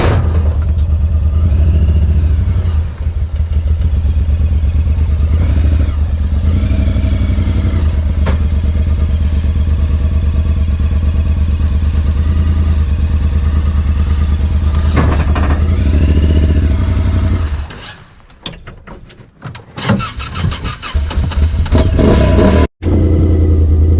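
An off-road vehicle engine idles and revs loudly in 37-degree cold weather at an off-road park in Kentucky, a steady close rumble with rough clattering. Near the end it drops away briefly before roaring back.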